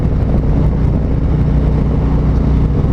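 A 2019 Road Glide Special motorcycle on the road, its engine drone steady and close, a thick, continuous low rumble mixed with wind noise that never lets up.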